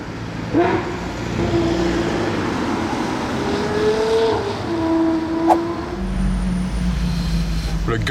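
A car accelerates along a busy street outside the Cipriani, its engine note rising in pitch over several seconds, moderately distant and mixed with street ambience and people talking.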